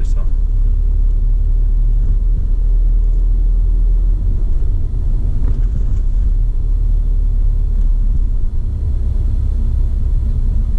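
A car pulls away and gathers speed during a driving lesson, its steady low engine rumble and road noise filling the cabin throughout, with an instructor talking over it.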